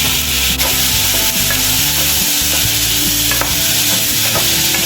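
Tomatoes fry hard in a pan for garlic tomato chutney, giving a loud, steady sizzle under repeated scraping strokes of a spoon.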